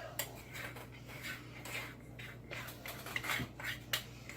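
A metal spoon scrapes melted chocolate out of a cooking pot for keto cheesecake brownie bars, giving repeated close scratchy clinks and scrapes over a steady low hum, with no talking.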